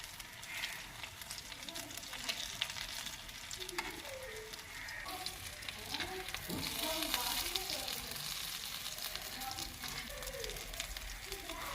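Potato tikkis, aloo kababs, shallow-frying in hot oil: a continuous crackling sizzle with occasional spatter and a brief turning sound, close up, with a voice talking softly at times.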